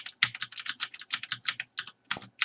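Rapid, crisp key clicks on a computer keyboard as a sample card number is entered, close and clear, in quick bursts with brief pauses.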